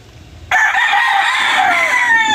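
A rooster at a small backyard chicken farm crows loudly and close by. The single sustained call starts suddenly after a quiet moment and carries on strongly to the end, with no talking over it.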